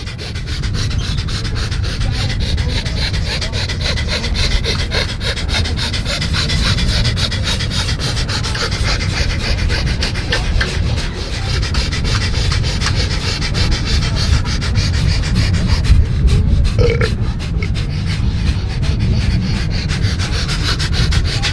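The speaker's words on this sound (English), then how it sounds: "All right, here we go. Breath of fire." Rapid, forceful rhythmic breathing in the breath of fire technique, a continuous fast pumping of breaths through the nose, close and loud, sustained without pause and with no talking.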